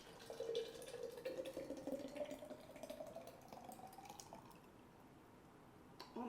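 Thick strawberry and pepper jam pours steadily into jars, with a faint gurgling and rising tone as it fills, quiet and close with no talking.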